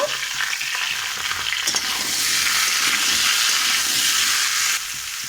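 Potatoes and papaya tossed into hot oil for a fish curry: a loud, close sizzle that swells into a steady hiss as the pan is stirred, with no talking over it.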